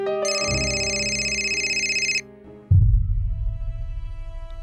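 A telephone rings with a bright electronic ringtone for about two seconds, then cuts off, followed by low rumbling background noise in a tense crime drama scene.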